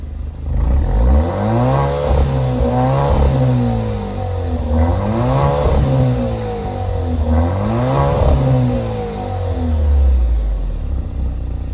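A 2024 Alfa Romeo Stelvio Competizione SUV revved in place: three or four loud, close throttle blips, each engine note sweeping up sharply and falling back to idle between them.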